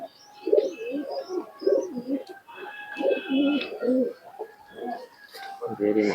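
Pigeons, including a male, give repeated low rolling coos close at hand, with lighter chirps and other bird sounds around them and people talking in the background.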